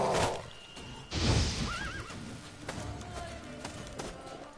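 A horse whinnies in The Witcher 3: Blood and Wine: a loud, close neigh with a wavering pitch, plus hoof clip-clops and other game sounds. There is no talking.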